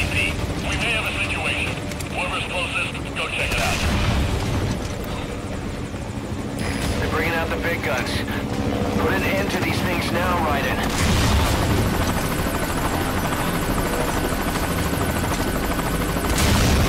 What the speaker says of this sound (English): cuando llega el segundo helicóptero ya está